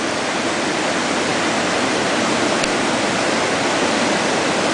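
Water at a rolling boil in a pot on a camp stove outdoors, a steady broadband hiss and bubbling roar that stays loud and even throughout with no pauses.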